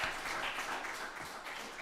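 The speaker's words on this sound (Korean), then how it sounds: "자, 박수해 주시고요." A congregation applauds during a Sunday service at a Korean Methodist church in Auckland, a steady, moderately quiet wash of clapping from a gathered crowd lasting a couple of seconds without a break.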